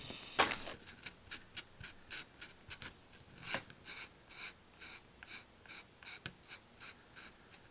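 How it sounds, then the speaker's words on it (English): Permanent marker writing on paper, a quiet series of short scratchy squeaks and strokes in an uneven rhythm, close and faint, with a louder squeak near the start. "The sound I really hate's permanent marker on paper."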